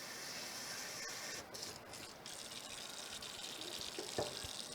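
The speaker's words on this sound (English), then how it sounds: "I will fill my sink up about halfway with water" Tap water runs steadily into a kitchen sink as it fills halfway for soaking an orchid, a continuous hissing gush with a faint clink near the end.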